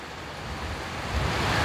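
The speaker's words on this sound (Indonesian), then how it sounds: "tanda bahwa angin lumayan keras" Strong wind gusting through swaying trees during heavy rain, a steady broadband rush that swells slightly louder toward the end, with no voices.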